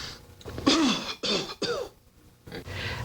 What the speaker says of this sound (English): Now cough.